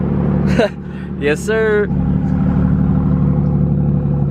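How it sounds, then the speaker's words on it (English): A BMW fitted with ARM resonated downpipes and an Active Autowerke equal-length mid pipe idles with both exhaust valves open, a steady low rumble throughout while someone speaks briefly over it. "That's what the car sounds like at idle."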